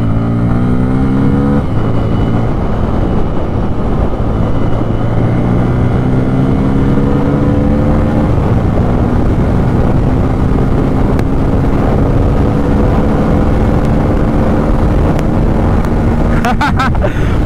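A Bajaj Pulsar N250 motorcycle pulls hard in fourth gear, its engine note climbing steadily in pitch, then a brief dip and a long sustained rise, loud and close with heavy wind buffeting the microphone throughout.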